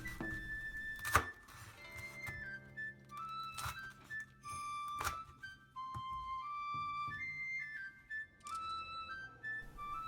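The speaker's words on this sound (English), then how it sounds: "Trim the edges and cut into pieces" A knife trims and cuts crispy oven-baked food into pieces for instant miso soup, giving a handful of sharp, crunchy chops spaced apart, with soft whistling musical tones running underneath.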